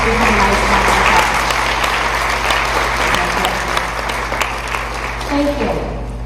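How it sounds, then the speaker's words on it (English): An audience at a speaking contest gives a sustained round of applause, a dense wash of clapping that holds steady and tapers slightly at the end, with faint voices underneath. "let's give him a nice round of applause"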